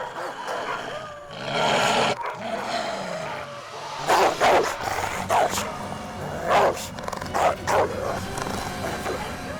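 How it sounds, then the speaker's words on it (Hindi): Several dogs bark in sharp, repeated bursts in a market setting. A car or engine noise runs underneath, and the barks come loud and close in uneven clusters, with no clear speech. "कौन से कुत्ते हैं ये?"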